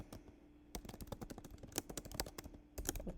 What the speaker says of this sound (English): I could copy and paste, but I like typing.